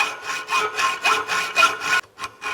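A hand saw cuts through a wooden workpiece in a workshop lesson, making loud, close, rhythmic back-and-forth strokes, about eight in a steady run, then a short pause and a few quicker strokes.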